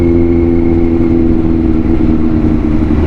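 Queued motorcycles on a road rumble and rev together in a steady, loud, close engine drone that holds without a break, with no talking.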